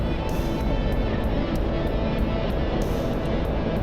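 An aircraft engine drones during takeoff in a combat flight video game: a steady, loud engine hum with propeller-like pulsing continues unbroken throughout.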